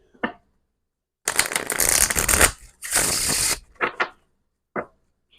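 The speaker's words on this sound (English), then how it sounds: "Let's move this to the side because I have to shuffle, even though I shuffled before the reading." A deck of tarot cards is shuffled by hand during a card reading, giving two long riffling bursts of papery flutter, then a few short card taps and flicks near the end.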